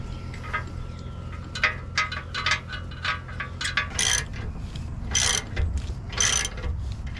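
A bolt being threaded into a Silverado 3-inch leveling key with a ratchet: repeated quick clicking ratchet strokes in uneven bursts, close and clear, with metallic handling noises between them.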